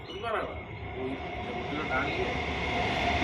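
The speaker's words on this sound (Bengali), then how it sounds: "ওই দেখো ট্রেন যাচ্ছে" A train rumbles past nearby as a steady, continuous roar beside a market, with voices faintly underneath.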